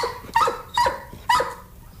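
A dog on a late-night talk show stage barks on command, three short, sharp barks evenly spaced about half a second apart, close and clear.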